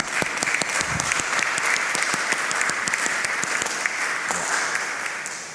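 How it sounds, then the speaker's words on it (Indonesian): Steady applause from a church congregation at a Sunday service fills the space, dense clapping throughout with a few sharper claps standing out, no talking. "Mari kita menyambut dengan tepuk tangan penuh sukacita."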